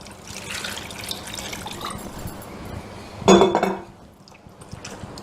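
Stuffed bitter gourd rinsed by hand in a bowl of salted water: continuous close sloshing with light clinks of a vessel, then a louder splash and clatter before fading to quiet.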